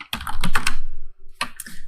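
Rapid clicking keystrokes on a computer keyboard while entering a terminal command, a burst of closely spaced taps, a brief pause, then more typing, close and fairly loud.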